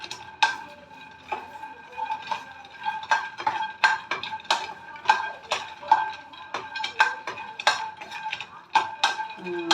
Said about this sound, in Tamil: நல்லா ஹை ஃப்ளேமில் வச்சு வறுத்துக்கணும்